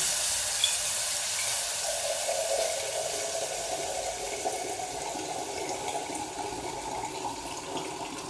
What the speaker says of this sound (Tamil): அரிசி பிடிச்சி கொஞ்சம் தண்ணி ஊற்றிடுவோம்